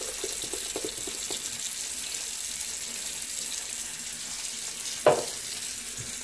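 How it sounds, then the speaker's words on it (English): Worcestershire sauce pours into a slow cooker with ribs, making a soft, steady liquid trickle and faint hiss, with a brief splashy burst near the end. "Some Worcestershire sauce going in there."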